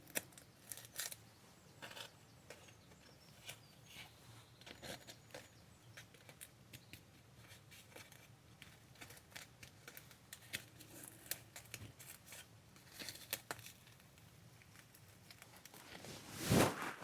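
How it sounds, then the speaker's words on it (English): Scissors snip through paper while fussy cutting around a focal piece for a junk journal spread, with soft, quiet clipping and paper rustles that stay close and low, followed by one louder crinkle near the end. "I haven't done a very good job of the fussy cutting there."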